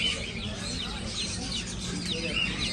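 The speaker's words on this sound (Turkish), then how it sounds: "Aa, civcivler var burada bak." Chicks cheep in a pet and animal market area, sounding as a busy chorus of high chirps amid crowd noise and background chatter, with people talking nearby.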